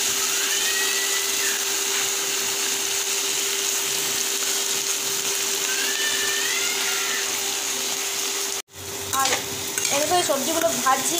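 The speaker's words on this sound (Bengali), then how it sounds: "সবজিগুলো ভাজছি এবার" Vegetables with taro fry in a pan with a loud, steady sizzle throughout, and a sharp clatter near the end as the pan is handled, with no speech.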